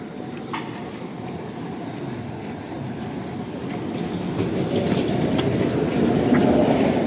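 A new Swiss-built tram from Bern, running in Lviv, rumbles steadily along its rails, the low rolling noise growing louder toward the end, with faint clicks from the track.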